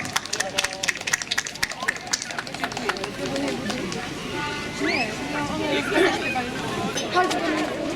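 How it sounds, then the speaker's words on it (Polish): A crowd applauds at the opening of a village festival in Dębno, Poland: quick, dense clapping fills the first few seconds, then fades into crowd chatter and voices talking close by. "Wielkie brawa!"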